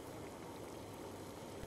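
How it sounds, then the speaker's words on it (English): A big pot of water boiling on a kitchen stove, a faint continuous bubbling and rolling simmer, brief and even, with no voices. "There is a big pot of boiling water on the stove."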